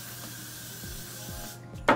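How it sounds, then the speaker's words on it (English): Extra-firm-hold hairspray hisses in a steady, close spray onto glitter, ending with a short sharper burst. "Give it a really good spray."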